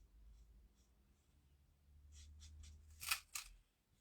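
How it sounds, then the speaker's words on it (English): A marker or pencil scratches softly across card stock as a stamped flower on a handmade card is coloured in magenta, with brief close scratchy strokes and a couple of sharper rubs near the end. "So we're just going to come in and colour this flower."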